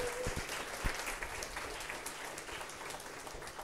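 Audience applause fills a packed conference room at a MeeGo developer event, with steady clapping from a large crowd continuing throughout at moderate level.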